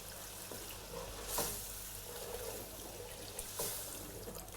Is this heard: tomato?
yes